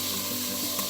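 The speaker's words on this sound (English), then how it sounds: "So all the onions, carrots, and celery goes in our pot. We're going to saute this" Onions, carrots and celery sauté in a soup pot, a brief, steady sizzle of frying vegetables with a soft hiss, close and moderately loud.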